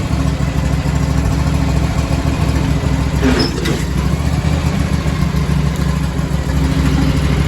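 The engine of a neglected Craftsman YT 4500 lawn tractor runs steadily, a loud, close, continuous mid-pitched drone with a brief swell partway through.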